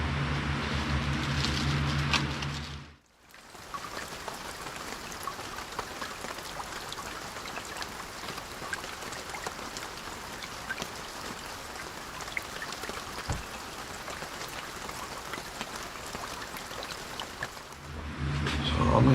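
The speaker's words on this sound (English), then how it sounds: "It sounds like the rain is here early." Steady rain patters and hisses continuously, a dense even wash of drops, briefly cut off near the start and returning louder at the end.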